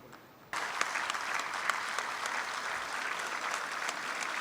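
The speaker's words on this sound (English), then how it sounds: "Huge round of applause, please." An audience at a university alumni meet felicitation bursts into applause after a quiet moment, the clapping starting abruptly and continuing as a steady, even roar of many hands.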